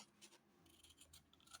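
Scissors snip through paper pages while an almanac is cut and trimmed, a few soft close cuts ending in one sharp, louder snip, with no talking.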